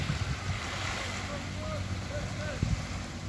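Strong high-tide water rushes through the Cengkrong beach estuary, a broad continuous roar of surging water with wind buffeting the microphone and faint low thumps.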